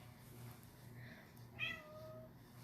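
A house cat meows once, a short rising-and-falling call standing clearly over a low steady hum in an indoor room, with no talk during the sound.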